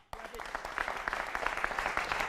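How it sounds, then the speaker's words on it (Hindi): Loud, dense applause from a TV studio audience at a Hindi news debate show, starting abruptly and sustaining steadily as a wash of many clapping hands. "जोरदार तालियां।"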